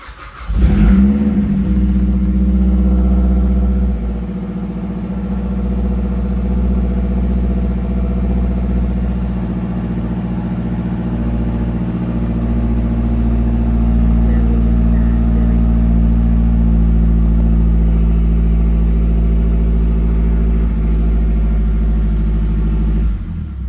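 A Mazdaspeed 3 engine cranks and fires after a body control module swap, then settles into a loud, steady near idle with a low rumble and a slight rise midway, running continuously to the end.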